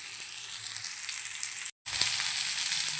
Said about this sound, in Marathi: आता पुन्हा आपण थोडं साईडनं तेल सोडूया आता या साईडनं पण आपण दोन मिनटं छान फ्राय करून घेऊया